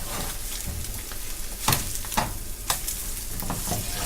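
An egg fries in a hot pan with a steady crackling sizzle, interrupted by a few sharper scraping clatters as it is flipped, with no talking.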